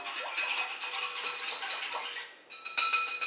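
A whisk beats a yeast mixture for bagel dough in a bowl, making rapid metallic clinks and taps in a steady rhythm, close up, with a brief pause before resuming.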